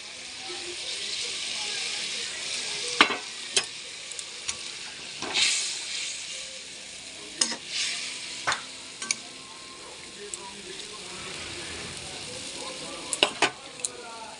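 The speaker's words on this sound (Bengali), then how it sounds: "মাছটা পুরো ফুটছে।" Thin hilsa fish curry with nigella seeds and green chillies bubbles and sizzles steadily in a pan, a close hissing simmer with occasional clinks and stirring knocks, while a person talks over it.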